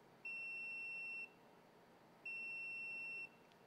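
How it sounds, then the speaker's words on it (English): A Sunlu filament connector signals that it has reached temperature with two clear electronic beeps, each about a second long and evenly spaced, sounding alone against a faint, quiet room background. "once it reaches that temperature, it's going to beep a few times,"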